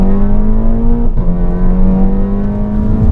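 Tuned Skoda Octavia 1.8 at stage 3 revs hard through a 3-inch stainless steel exhaust, a loud, close, steady drone with a brief dip before climbing again, no voices over it.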